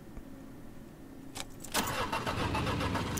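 A car's engine cranks and starts in the video game Crime Scene Cleaner, a short whirring crank followed by a steady, fairly quiet idle that settles in, no voices over it.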